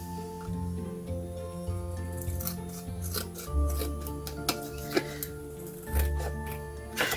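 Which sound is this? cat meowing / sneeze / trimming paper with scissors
trimming paper with scissors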